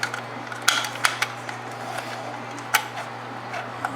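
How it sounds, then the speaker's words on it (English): Metal handle shaft slid back into a small mechanism with its clutch parts, giving a few sharp metallic clicks and taps spaced irregularly over a quiet low hum, close up and fairly soft, with no voices. "we're going to put the handle shaft back in with the notch up"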